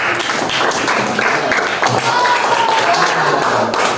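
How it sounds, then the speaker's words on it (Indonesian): Classroom of trainee teachers applauding three participants called up front, a dense wash of clapping from a small group with speech mixed in throughout. "Tepuk tangan untuk lagi bertiga"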